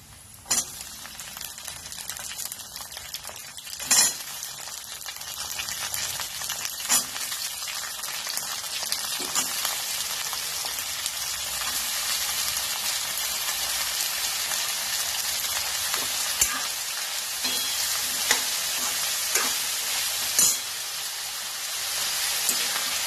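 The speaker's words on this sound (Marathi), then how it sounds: "हे पहा, अशा पद्धतीनं हा कांदा भाजलेला आहे। आता याच्यामध्ये हा फ्लावर घाल।" Cauliflower tossed into browned onions in a hot pan, frying with a steady, rain-like crackle for a long stretch, with occasional stirring clicks and scrapes close by, no voices.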